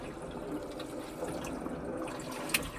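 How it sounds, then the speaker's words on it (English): Air gurgles and trickles through the partly filled water hoses of a newly plumbed air-to-water intercooler on a turbocharged LS engine, a soft, continuous bubbling wash with a faint tick near the end. "There's not much water in it, so you can kind of hear the air in it"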